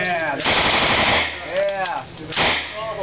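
An airsoft .45 caliber Thompson submachine gun fires two loud, close bursts of rapid automatic fire, with a person's excited voice briefly heard between them.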